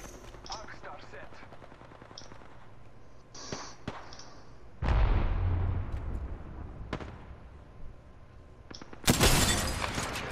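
Arc Star grenade in Apex Legends goes off with a sharp electric crackle and boom midway, amid scattered gunshots and a second loud burst near the end, with voices faintly under the action.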